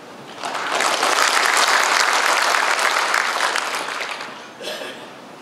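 Audience members at an Agent Orange veterans' association annual general meeting break into applause that swells quickly, stays full and even, then fades with a brief final burst of clapping.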